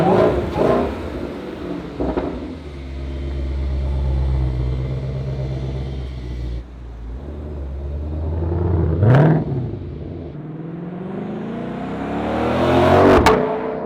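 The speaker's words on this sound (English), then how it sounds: "see if you can hear a difference with the Supercharger whine" A 2020 Shelby GT500's engine rumbles and revs with a rising supercharger whine, building to loud surges of exhaust and acceleration, with no talking.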